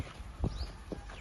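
A ridden horse steps slowly backward, and two muffled hoof clops fall about half a second apart over a quiet, low background.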